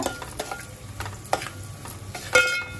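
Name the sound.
onions frying with salt in a pan for prawn gravy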